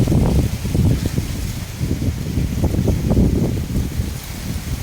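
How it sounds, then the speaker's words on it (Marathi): Strong wind ahead of rain buffets the microphone in loud, continuous low rumbling gusts with no voices, close and steady throughout. "आता बघा खूप जास्त वारा सुटलेला आहे"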